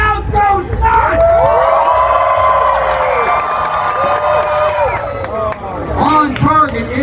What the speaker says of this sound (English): And the crowd goes nuts!